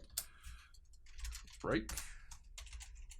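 Keystrokes of PHP code being typed on a computer keyboard, a quiet run of soft clicks under a voice speaking close by.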